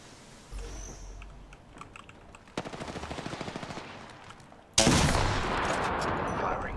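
Rapid bursts of automatic gunfire in a multiplayer shooter, rattling in steady runs before a louder, denser volley near the end, with faint keyboard clicks early on.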